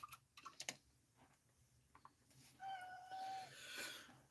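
A pet cat meows near a microphone during a live painting session on Godzilla figures; a drawn-out meow and a second cry follow some soft taps and ticking, with no talking.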